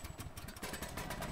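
An engine running in The Last of Us video game, a brief rough, pulsing idle rumble heard up close with no talking.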